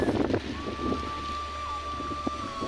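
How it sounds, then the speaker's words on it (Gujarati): Strong storm wind sweeps steadily across an open farm field in heavy rain, a continuous rushing roar with gusty buffeting on the microphone and a faint whistling tone running through it. "તોય પવન એટલું આવે છે"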